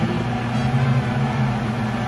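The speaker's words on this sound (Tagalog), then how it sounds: "nag-iinit ako dito sa microwave" A steady mechanical hum with a low drone from a microwave oven heating, constant and close with no voices.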